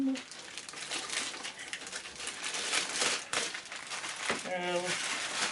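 Plastic bag crinkling and rustling as a Commodore C64 Datasette C2N tape drive is unpacked from its styrofoam packaging, close and continuous, with a brief voice near the end.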